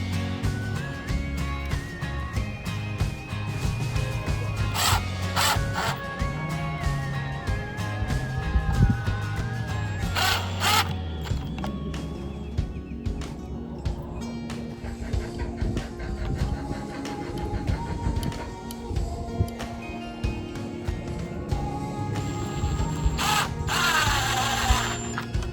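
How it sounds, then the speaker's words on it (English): A power drill whirs in repeated bursts, driving small screws into a DIY wooden entryway hanger, with a few high-pitched revving spurts and mechanical ratcheting and clicking between them, close up. "taking your power tool and the screws that it comes with, I'm gonna go ahead and drill these into place"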